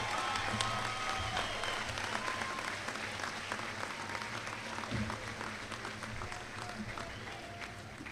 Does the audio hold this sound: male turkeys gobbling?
no